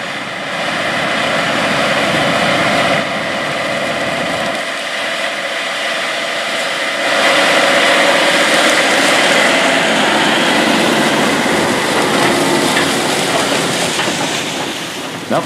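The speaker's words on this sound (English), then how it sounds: "tractors pulling the 26-foot Wishek discs" Fleet of eight tractors pulling 26-foot Wishek discs with 30-inch blades through a field, burying crop residue: a steady, loud, continuous engine drone with broadband rumble that swells slightly midway, with no talk.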